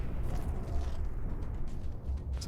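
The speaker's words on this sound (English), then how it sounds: "Just continues to try to fire at Ken with those coil cannons." Coil cannons firing in Space Engineers during a StarCore tournament match, a dense rumbling barrage of heavy booms and bursts blending into a continuous roar.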